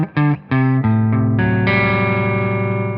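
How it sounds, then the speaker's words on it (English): Gibson electric guitar on the neck pickup with a warm, round tone, a few short plucked notes then a sustained ringing chord, distorted with chorus-like shimmer, loud and alone. "your neck pickup is actually the most bright sound."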